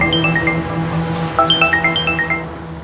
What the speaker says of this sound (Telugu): అగో మా అమ్మ ఫోన్ చేస్తాంది